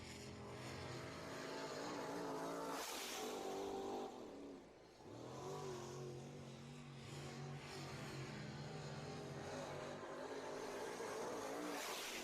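Late model stock cars race around the Southern Raceway oval during heats and qualifying, with a loud, continuous engine roar that rises and falls as cars pass close by, briefly dipping midway before surging again.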